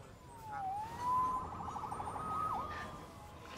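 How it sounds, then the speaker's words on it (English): A police siren wails in a Spider-Man video game, its tone sweeping down and then rising into a sustained, fairly loud wail over a steady background hum, with no one talking. "Saved by the siren."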